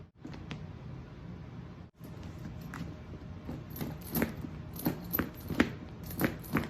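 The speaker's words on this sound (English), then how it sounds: "There's just something about the jingle jangle of a Dooney Bourke bag." Metal hardware on a Dooney & Bourke Gretta handbag jingling and clinking as the bag is handled. Light jangles and taps come and go over a steady background rustle, growing busier toward the end.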